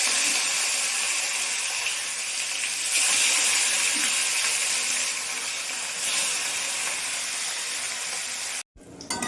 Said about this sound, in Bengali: তেল গরম হয়ে গেছে, আমি মাছগুলো দিয়ে দেবো।